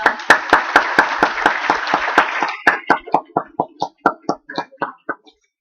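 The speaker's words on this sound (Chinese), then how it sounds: "请大家带给我们社控组的掌声" A crowd at a secondary-school camp applauds with dense, rapid clapping that thins after a couple of seconds into a handful of separate, slowing claps before stopping.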